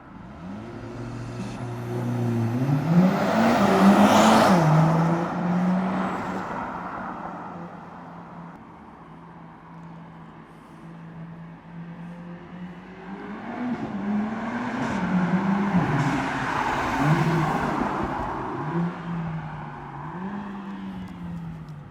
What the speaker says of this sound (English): I added some extra like drive-bys just to kind of make up for that